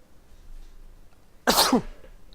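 A single sharp sneeze bursts out after a quiet pause, loud and close, then fades quickly.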